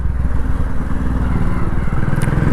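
A motorcycle engine thrums with a rapid, throbbing low rumble while riding, loud and close, its pulsing beat slightly uneven throughout.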